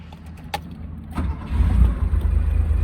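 A 1982 Porsche 911 Targa's engine cranks and fires, then settles into a steady, loud low rumble close by.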